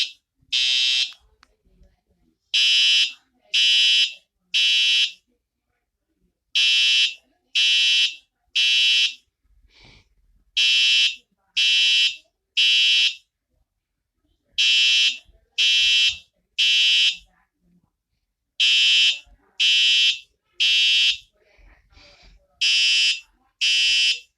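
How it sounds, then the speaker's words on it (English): A cartoon fire alarm from Bubble Guppies beeps in sharp, loud bursts, usually three rapid tones per group, repeating with short pauses between groups and no speech over it. "The fire alarm went off."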